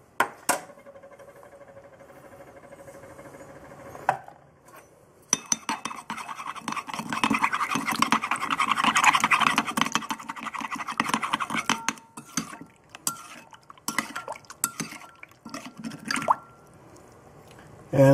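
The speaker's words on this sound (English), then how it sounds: "what we're simply going to do now is hydrate it into a little bit of warm water" Dry yeast being stirred into a small amount of warm water to hydrate it: faint clinks and scrapes of a utensil against a container, wet swishing and stirring, and scattered handling noises, with no talking.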